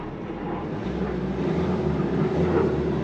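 Vehicle engine revving to drive an alternator charger, a steady low rumble that swells slightly partway through, loud and continuous with no talk.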